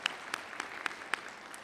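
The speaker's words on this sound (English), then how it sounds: "Give them a big round of applause." Faint, sparse clapping from a spring commencement ceremony audience, a handful of evenly spaced claps over about a second and a half, quiet and thin rather than a full ovation.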